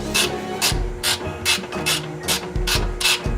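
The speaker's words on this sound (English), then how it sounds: "I'm using a 17mm wrench without the one on the other side" A 17mm wrench working on a suspension arm bolt of a Lexus LS460L, a close series of rhythmic metallic ratcheting clicks and turns in repeated strokes, loud and steady.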